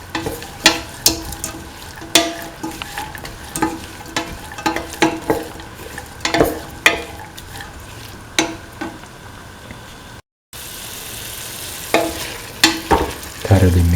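Green peas being stirred into a sizzling beef and coconut milk mixture in a pan, repeated spoon scrapes and clinks over a steady frying hiss, close and fairly loud, with a brief cut partway through.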